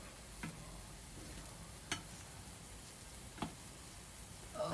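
Steak, pork and onions sizzle on a Korean BBQ grill at home, a faint steady frying hiss broken by a few soft clicks and taps at regular intervals, with no voices.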